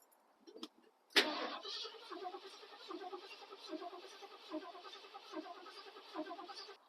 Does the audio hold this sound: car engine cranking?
yes